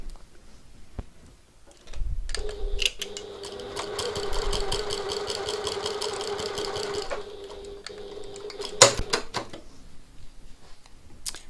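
A domestic sewing machine runs steadily for about five seconds, stitching across the end of a piped pocket tote bag, then stops; a sharp click follows, and quieter handling noises fall before and after.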